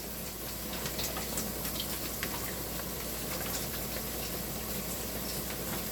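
Liquid poured into a cooking pot of tteokbokki, a steady, continuous wash of pouring and bubbling close by, with no voices.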